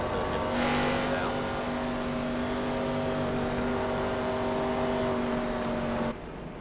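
Race cars on a track in an online racing league, engines droning steadily with sustained high-pitched whine and layered tones, loud and continuous before cutting off abruptly near the end.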